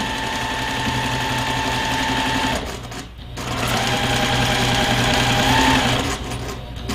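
A sewing machine stitches a cross-stitch pillow closed, running in a steady, close mechanical whir that stops briefly near the middle and then resumes.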